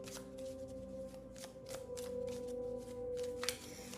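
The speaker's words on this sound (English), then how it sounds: "I'm going to shuffle the deck." A deck of tarot cards is shuffled by hand in a series of soft, close riffling bursts over a faint steady hum, with no talking.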